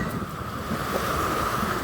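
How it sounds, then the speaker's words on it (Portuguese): Strong, gusty wind roars across an open reservoir. It is a steady broadband rush with a low rumble of buffeting against the microphone, and no voices are heard. "Não para o vento e tá muito agressivo demais."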